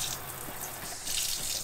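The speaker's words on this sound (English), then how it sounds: "we have a separate water tap for filtered water" Water runs steadily from a sink tap in a school bus tiny home kitchen, a close, continuous hiss that swells slightly toward the end, with no talking.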